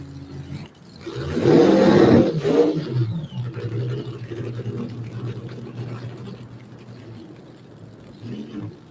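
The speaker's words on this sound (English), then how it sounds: "looks like he is bringing it forward for a short burnout" The Street Fuel Coupe nitro drag car at Mid-State Dragway does a short burnout, its engine swelling into a loud roar for about two seconds and then settling to a rumbling idle heard from a moderate distance.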